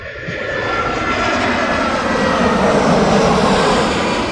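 An Aer Lingus airplane at London Heathrow Airport roars past, a loud, continuous broadband engine rush that swells steadily and holds without a break.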